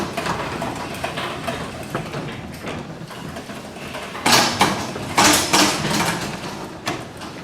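A residential garage door is lifted open by hand after its opener is released, with a slightly slack drive chain. Rattling and clanking mechanical noise runs throughout, with louder metallic bursts in the second half.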